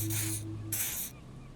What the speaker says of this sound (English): He douses you with the odd-smelling spray